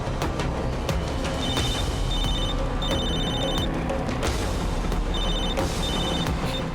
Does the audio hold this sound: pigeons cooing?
no